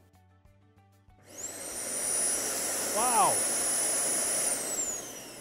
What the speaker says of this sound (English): Now that we've verified that this vacuum cleaner works perfectly